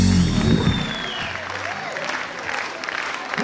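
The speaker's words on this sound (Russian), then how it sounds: "Громкие аплодисменты" Loud applause from a concert audience at the close of a solo concert by two stars, steady dense clapping filling the hall, with music fading out at the start.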